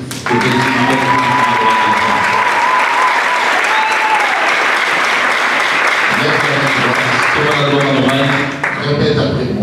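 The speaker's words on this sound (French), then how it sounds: "On acclame." An audience applauds loudly and continuously, with dense clapping from a large crowd and some faint tonal sound mixed in.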